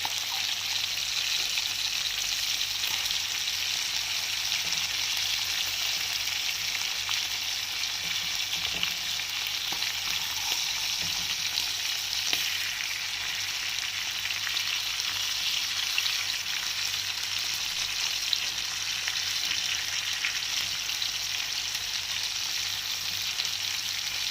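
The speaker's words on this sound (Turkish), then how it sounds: "soteliyoruz biraz. Çok yakmadan." Vegetables and onions sauté in a pan for a chicken dish, producing a continuous, even crackling sizzle close up with faint occasional stirring scrapes and no talk.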